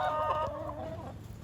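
Young pullets and hens cluck inside a chicken coop pen, a short, close burst of throaty clucking calls with no talk.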